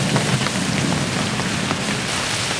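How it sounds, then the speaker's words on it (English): Rain falls steadily on a canoe trip, a dense, even hiss of drops that stays constant and fairly close, with no talking. "It's raining."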